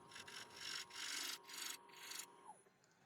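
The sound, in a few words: scraper shear-scraping Irish yew on a wood lathe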